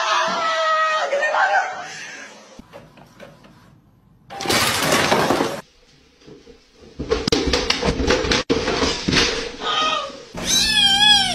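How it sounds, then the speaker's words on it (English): A cat meows a few times in high, wavering calls, mixed with clattering noises and bursts of broadband sound, ending on a rising, warbling meow. "His meow is so cute."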